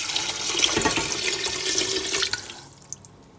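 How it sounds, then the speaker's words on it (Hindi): Water pours steadily into a soup pot for a quail soup, a continuous bright splashing stream that runs for a few seconds, then thins and stops, heard alone and close. "मैंने इसमें देखें 1 लीटर पूना पानी डाल देना है"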